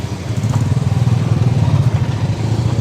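A motorcycle engine chugs close by at a steady low throb while moving slowly through a dense crowd at a busy night flower-garden attraction.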